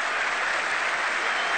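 A cricket crowd applauds batsman Bruce Laird off the ground after a fine innings against Joel Garner's bowling, producing a steady, dense wash of clapping from a large, distant-sounding stadium audience.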